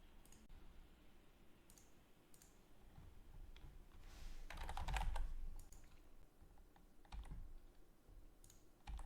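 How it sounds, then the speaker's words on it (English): Computer keyboard keys and mouse buttons clicking during an online Magic: The Gathering Pioneer match, a faint, steady patter of rapid taps that runs alone for about nine seconds with a slightly busier stretch in the middle. "So much clicking."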